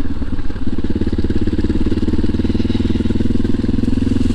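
A Yamaha Tricker motorcycle with a freshly overhauled front fork rides on a relaxed tour, its single-cylinder engine thumping in a steady, rapid pulse close to the rider with no talk.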